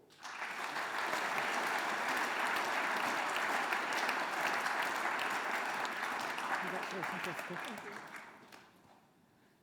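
At a Royal College of Surgeons diploma ceremony for otolaryngology and head and neck surgery candidates, the audience breaks into loud, sustained applause. It holds steady for several seconds, then fades toward the end, and a voice speaks briefly over it.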